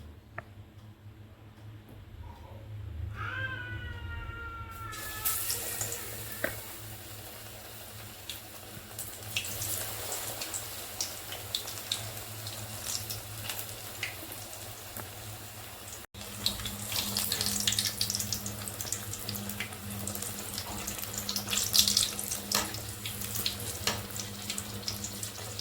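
Raw banana bajji drop into hot oil after a quiet start with a few light clinks, then a loud, dense sizzle takes over and keeps crackling steadily, swelling louder toward the end.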